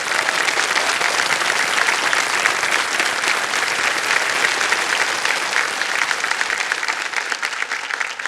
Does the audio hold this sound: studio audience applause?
yes